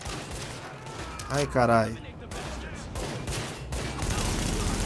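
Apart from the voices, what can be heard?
gunfire from video game The Division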